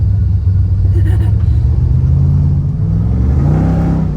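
A heavily beat-up V8 turbo Honda race car of roughly 1100–1200 horsepower idles and revs with a deep, loud, close rumble that swells slightly near the end.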